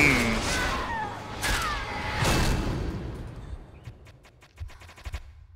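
Rapid gunfire from the Undertale fan battle Chara versus Mettaton NEO, a dense burst of shots and impacts up front that thins into scattered sharp cracks and clicks toward the end.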